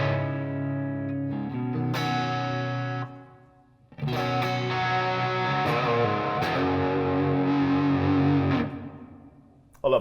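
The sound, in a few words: electric guitar through Digitech Polara reverb pedal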